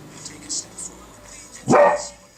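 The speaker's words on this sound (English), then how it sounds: "And my dog has to bark, of course" A single loud dog bark rings out close by near the end, after quieter household sounds and some faint voice activity.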